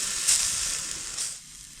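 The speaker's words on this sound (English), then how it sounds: "Oh my goodness, already sizzling." Sausages sizzle and crackle in a hot pan on a DIY rocket stove, a steady hiss close up with a brief louder spit near the start.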